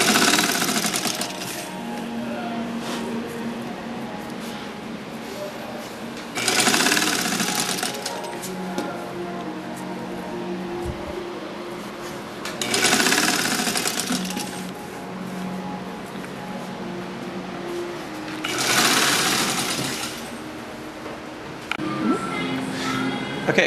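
A sewing machine stitches two pieces of fabric together for a hanging hug craft, its motor whirring steadily in several bursts with short pauses between runs, close and fairly loud, and no one talking.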